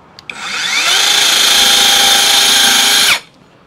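An Akaido cordless mini circular saw spins up and cuts through pine wood, a loud high whining buzz held steady for about two seconds after a small click before it quickly winds down.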